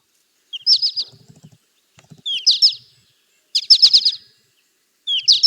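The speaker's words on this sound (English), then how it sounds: "they do have a call that a lot of people say sounds like a potato chip kind of call" An American goldfinch gives its potato-chip call, short bursts of high chirps in about four groups separated by quiet gaps, clear and fairly close with no voices.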